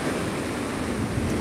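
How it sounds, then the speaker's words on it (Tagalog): Strong waves pounding the shore during Typhoon Opong in Bicol, a loud, dense, unbroken roar of surf and wind noise filling the short stretch without any voices. "tinatangay po ito ng matinding mga alon pag ganitong masamaang panahon"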